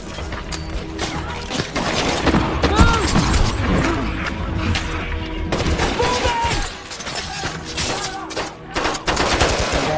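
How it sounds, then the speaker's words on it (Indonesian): Dense bursts of gunfire and rapid automatic shots fill a film battle between Navy SEALs and militia, with crashes and shouted voices mixed in throughout. "meminta Marcus memberikannya tembakan pelindungan agar sampai ke puncak"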